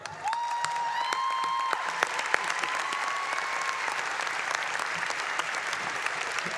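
Commencement audience at a fall university graduation ceremony breaks into steady, sustained applause, dense clapping filling the hall at an even level throughout, with a faint whistle-like tone in the opening seconds.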